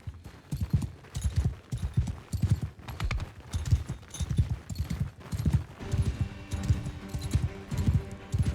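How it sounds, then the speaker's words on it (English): Horses galloping in battle in Mount & Blade II Bannerlord, with rapid, rhythmic hoofbeats thudding in repeated bursts, fairly close and steady, and faint clatter and game sounds mixed in. "Yeah, they got some horses."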